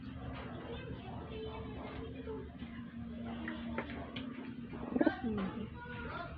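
Pigeons coo softly and repeatedly nearby, low throaty calls over a faint background hum, with a brief louder flutter of sound near the end.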